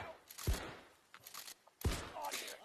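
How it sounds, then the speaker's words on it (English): Flares fired in the VR shooter game H3VR, two sharp launching bursts with crackling hiss trailing after each, close and loud in a short burst of action. "They just fire flares."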